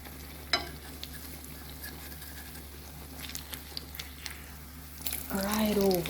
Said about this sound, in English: I'm going to flip these fritters.